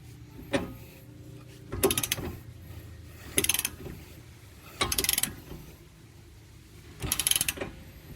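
Ordinary hand ratchet loosening a lug nut on a Mitsubishi Mirage hatchback rear wheel, heard as four or five brief clicking ratchet strokes spaced a second or two apart, close and fairly quiet.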